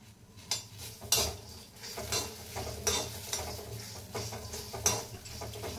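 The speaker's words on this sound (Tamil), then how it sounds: "அதையும் லேசாக இப்படி வதக்கணும்." Green chillies sauté lightly in a pan for peanut chutney, with a soft sizzle beneath repeated metallic spoon scrapes and taps against the pan.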